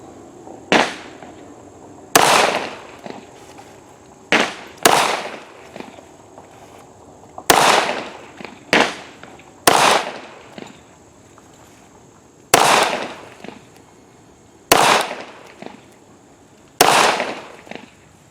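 Springfield M1911 pistol fired outdoors at a range, about eleven sharp, loud gunshots in an uneven series, some in quick pairs and others spaced a second or two apart, each followed by a short decaying echo.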